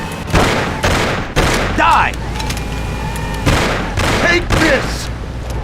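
Gunfire rings out during a car chase in the game Mafia: repeated loud bursts of shots in uneven volleys over a continuous engine and road rumble, with someone shouting between them.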